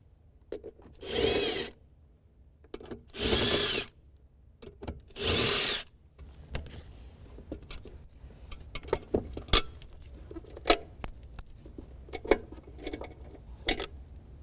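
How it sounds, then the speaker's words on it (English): A ratchet turns a 10 mm socket on an extension, backing out mounting bolts during parking brake cable work on a Toyota RAV4. Three sustained rasping bursts of ratcheting come first, then scattered light clicks and taps from handling tools and parts. "It's a 10 millimeter socket. I'm going to use an extension and remove them."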